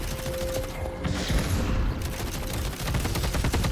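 Gunfire from Deadlock during a fight, a dense rattle of rapid shots and impacts that continues without a break, loud and close, with a brief tonal whine early on.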